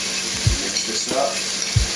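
A regular spoon stirs and mixes food with freeze-dried basil, giving soft scraping with a few brief low knocks against the container at a steady, unhurried pace, close by.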